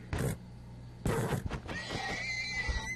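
A horse in the video game Minecraft lets out loud, shrill neighs and whinnies in a few close bursts, followed by softer snorting and shuffling sounds.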